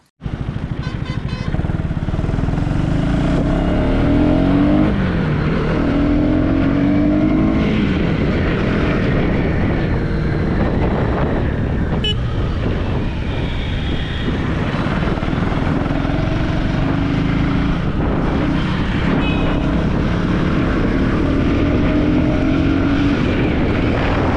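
A KTM Duke 250 motorcycle being ridden and accelerated, its engine a loud, continuous drone whose pitch rises and falls through gear changes, with wind rush close and dense the whole way and no speech.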